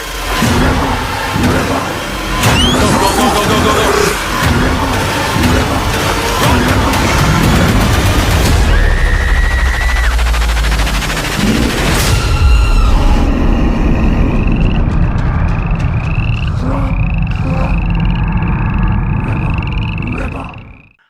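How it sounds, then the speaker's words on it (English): A loud horror film trailer for Frogman plays with booming impacts, grunts, rumbling vehicle-like noise and dense music, thinning toward the end into high tonal chirps before cutting off. "That was the trailer for Frogman, streaming right now on SCREAMBOX"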